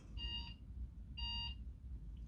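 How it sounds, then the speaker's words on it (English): An alarm beeps in two sustained electronic tones about a second apart, bright and steady, over a low background hum. "Excuse my alarm."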